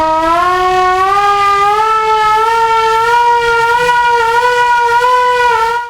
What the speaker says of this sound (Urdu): سائرن تو اب تقریباً بس وہ صرف اینٹیکس کے حد تک ہی رہ گیا